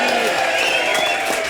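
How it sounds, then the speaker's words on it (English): Pub audience at a live rugby show in London breaks into loud, sustained cheering and clapping for a former rugby player, the applause steady and close with a few voices faintly audible in the mix. "can we have a goddamn huge cheer for Alfie Gareth Thomas"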